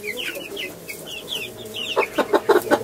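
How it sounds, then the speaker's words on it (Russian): A broody hen clucks among her chicks: high, thin peeping from the young runs throughout, then the hen's low rhythmic clucks come in a quick repeated series, close and clear. "Это клуша с цыплятами."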